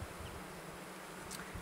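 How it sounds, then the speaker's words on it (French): A steady, dense buzz of many honeybees fanning at the hive to call the colony, humming together, continuous and fairly close, with no voices. "Quand les abeilles battent le rappel, comme ça là"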